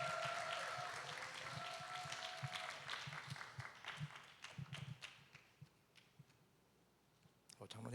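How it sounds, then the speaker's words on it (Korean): Congregation applause in a church hall at an anniversary talk concert, welcoming an elder. Clapping starts fairly full, then thins to scattered claps and fades, with a few taps near the end. "장로님을 박수로 맞이해 주시기 바랍니다."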